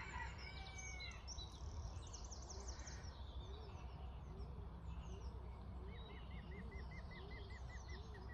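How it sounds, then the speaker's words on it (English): Morning birdsong in a Tudor cottage garden: several birds chirp and trill at a distance, with repeated pheasant-like calls and a faint crowing cockerel, over soft, steady outdoor ambience. "There's a horse whinnying in the background, some pheasants in the field, and lots of birds."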